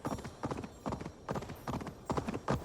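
Horse hooves clip-clop along a road in Assassin's Creed Valhalla, a quick regular trotting rhythm of paired hoofbeats, moderately close and alone with no talking.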